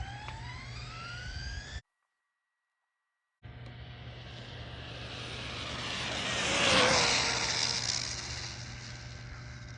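A Traxxas Bandit RC car running flat out: a high electric motor whine with rising tones, a brief dropout, then a broad rushing roar that swells to a peak and eases off, with no talking.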